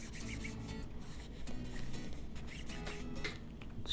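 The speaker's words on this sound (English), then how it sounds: "Take a microfiber cloth and rub it." A microfiber cloth rubs along the edge of a dbrand skin on a Samsung Galaxy Note 8, making a steady, soft, close-up scratchy friction that continues without pause and without voices.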